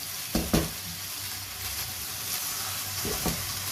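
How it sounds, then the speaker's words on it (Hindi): Soaked rice and potatoes for pulao, tinted yellow with turmeric, sizzle in a cooking pot while a spoon stirs them, giving a few distinct scraping knocks over a steady close frying hiss. "थोड़ा सा मैं इसको मिक्स करूंगी ताकि चावलों में भी अच्छे से कलर आ जाए।"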